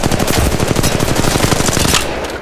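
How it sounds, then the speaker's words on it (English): Rapid, loud automatic gunfire from Apex Legends Mobile, a dense continuous burst of close shots that tapers off near the end. "Shots fired, and they're hitting me."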